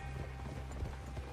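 Horse hooves clip-clop at a steady riding pace in the video game Red Dead Redemption 2, a soft, even rhythm under a continuous low background rumble.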